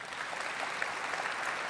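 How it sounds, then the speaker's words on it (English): Quiet, even applause from an audience for the guests of a panel on women in leadership, a soft continuous patter heard from a distance. "Please, a round of applause for these women."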